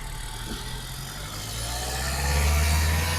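Hyundai Creta SX(O) 2023 with a 1.5-litre four-cylinder inline diesel engine idling, a steady low rumble that swells slightly louder toward the end, with no talking.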